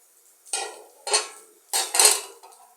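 A metal cooking pot being handled in a home kitchen, giving four sharp clanks and scrapes in quick succession, close and fairly loud with no talk.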